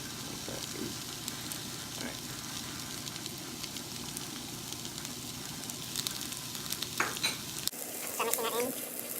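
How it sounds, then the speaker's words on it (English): Onion frying and being stirred in a pan, a steady sizzle with scraping stir sounds throughout, then a sudden quieter moment near the end. "for starters, I will be throwing in the onion"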